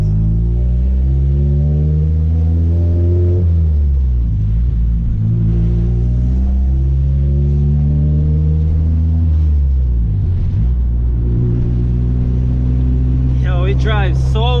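A Honda Civic swapped with a B20B engine drives on the road, its loud engine droning and rising and falling in pitch through gear changes close inside the cabin, with a person talking over it.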